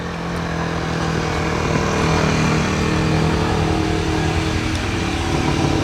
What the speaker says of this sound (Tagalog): may mga tricycle dumadaan eh